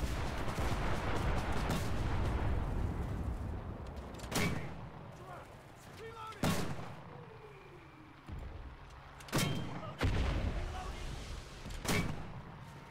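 Mortar rounds fire in the Pacific combat of the video game Enlisted, giving about five heavy, separate booms over a dense rumble of battle, with a voice talking underneath.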